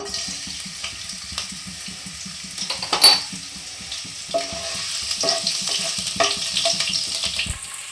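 Chopped garlic hits hot mustard oil in a pan while cooking sattu paratha, producing a steady close sizzle with scattered crackles and a few sharper clinks and stirring scrapes, with no voices.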